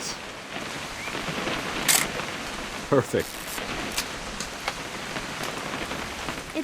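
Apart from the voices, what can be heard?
rain in the video game What Remains of Edith Finch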